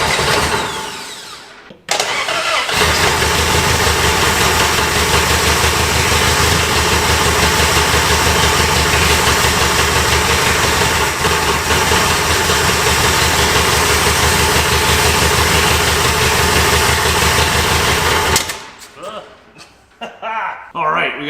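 An abandoned Mopar engine, left sitting for over 20 years, fires up and runs rough and loud for most of the stretch before cutting out, with voices near the end.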